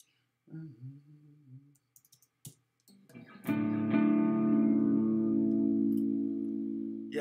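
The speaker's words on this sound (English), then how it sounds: "I'd want probably a bigger reverb. So go with more like a hall." An electric guitar rings out through a large hall reverb, with a few scattered picked notes and clicks, then a sustained chord that swells and lingers with a long, washy tail.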